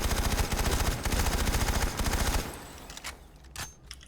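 A video game gun fed from a side-mounted drum magazine fires a long, loud, rapid automatic burst for about two and a half seconds, then stops, leaving a few faint distant shots and clatter.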